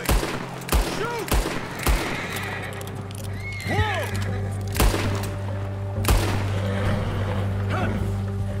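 Gunshots fired at a bear in the video game Red Dead Redemption 2, several loud sharp cracks spread across the scene among horse whinnies, hoofbeats and a low steady game soundtrack.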